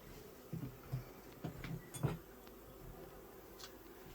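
Honey bees buzz around three beehives beside a house during a honey harvest: a faint, low drone with a few brief louder passes near the start, then fading to a quiet steady hum.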